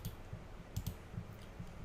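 Keys on a computer keyboard are tapped to type a search, giving quiet, sparse, irregular clicks spaced across a couple of seconds with little else around them.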